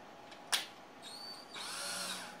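A power drill spools line onto a Beaver Dam tip-up, with a sharp click followed by two short whirring runs of the motor, the second longer, heard close and fairly quiet with no talking.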